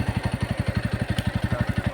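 A Bajaj Pulsar NS160 motorcycle engine runs close by with a rapid, even thumping pulse, a steady low chug repeating many times a second.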